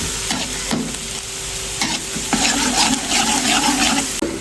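Shrimp fry in hot oil while being stirred, a loud, continuous sizzle broken by scraping stirs and bubbling as the liquid cooks down, close up with no talking.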